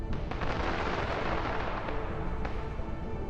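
An advancing armored convoy fires on Ukrainian positions, heavy booming shots and blasts layered over a constant roar of battle, loud and close with a few sharper reports standing out, no speech.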